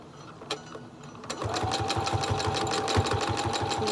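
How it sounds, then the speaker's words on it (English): Sewing machine stitching a fabric mask, starting after a brief pause and running in a steady fast mechanical chatter, close and fairly loud. "Now I'm just stitching along."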